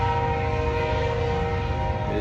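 A train horn blows long and loud from railroad tracks close by, a steady chord of tones sounding continuously with a low rumble beneath.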